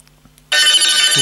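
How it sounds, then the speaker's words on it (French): HTC One M9 smartphone ringtone starts abruptly after a near-silent moment, a bright, loud electronic chime playing on its own, close to the microphone. "choisir le son de la sonnerie, le son de notification et le son de l'alarme"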